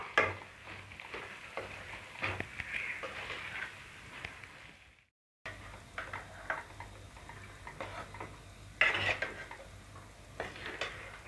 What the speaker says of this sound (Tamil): நல்லா கிளறி விட்டுப்போம் சாதம் ஃபுல்லாக இந்த கிரேவி படுற மாதிரி நம்ம கிளறி விட்டுப்போம்